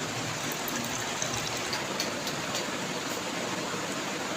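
Water poured from a home water filter, a steady rushing trickle heard close and continuous without pauses or voices.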